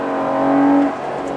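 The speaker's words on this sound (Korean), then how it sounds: "엔진 사운드가 예전 초창기 터보 모델들에 비해서 많이 좋아졌네요." A Porsche 911 Carrera GTS Cabriolet engine hums steadily while driving on a mountain road, a close, even mechanical drone that rises briefly in pitch and then settles.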